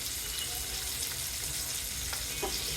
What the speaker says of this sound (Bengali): রসুনের কোয়া দিয়ে দিচ্ছি 4-5টা,